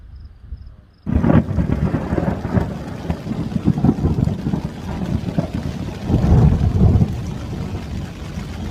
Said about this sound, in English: there was some pretty ground shaking thunder this morning